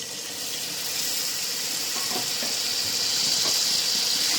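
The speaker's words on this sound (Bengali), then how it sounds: "দিয়ে দেবো একটু জল" Water poured into a pan of frying garlic and turmeric while cooking a Bengali kokila fish curry, giving a steady, loud hiss and sizzle that swells slightly and holds throughout, with no talking.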